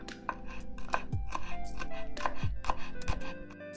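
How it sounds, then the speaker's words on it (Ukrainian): Fresh dill being chopped finely on a board for an eggplant appetizer, a run of crisp knife strikes in quick uneven bursts, close and fairly loud with no talk. "А зараз нарізаємо дрібненьку кріп."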